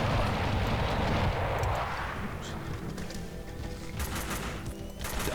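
Dense gunfire and explosions rumble through a Max Payne 2 firefight with the Old School mod, a heavy continuous roar at first that thins into sharper cracks, while someone talks over it.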